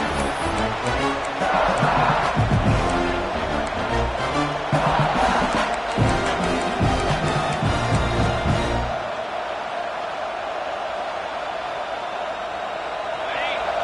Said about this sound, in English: the crowd really making some noise now, trying to help out this defense to get this stop near the goal line